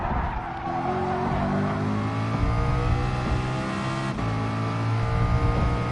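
Race car engine in a PS4 racing game, holding at high revs continuously and loud, with a brief dip and tire squeal suggestions as it corners.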